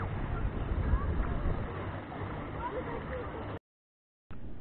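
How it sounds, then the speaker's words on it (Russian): Wind blowing at the central beach of the Black Sea in Anapa, a steady loud rush of gusty microphone buffeting mixed with distant surf, cut off by a brief gap of silence before resuming. "Воду, вот ветер сейчас"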